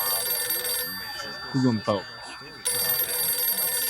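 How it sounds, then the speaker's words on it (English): A telephone bell rings steadily through a rap track, a sustained bright trill that drops out briefly while a voice raps over the beat, then resumes. "The phone is ringing."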